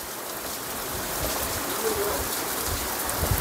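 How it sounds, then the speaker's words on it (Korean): Steady, dense hiss of rain falling at a temple on Maisan mountain in Jinan, Korea, even and continuous throughout with no voices. "빗방울 떨어지는 모습도 너무 신비로워요"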